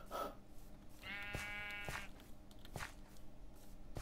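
A Minecraft sheep bleats once in a wavering, moderately loud call, followed by soft in-game footsteps and ambient game sounds.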